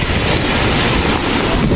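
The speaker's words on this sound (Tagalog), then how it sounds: "Lakas kasi ng alon, mga kalula." Strong seaside waves during a typhoon, a loud, dense roar of surf mixed with heavy wind buffeting the microphone, steady and unbroken over a short stretch.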